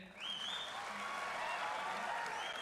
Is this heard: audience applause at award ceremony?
yes